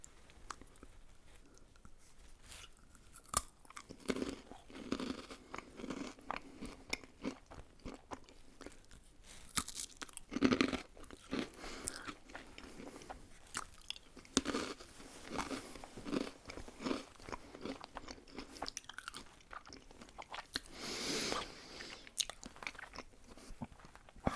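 Crunchy little breadsticks dipped in cheese cream being eaten, with close, crisp bites and steady chewing repeating through the stretch, louder crunches standing out now and then.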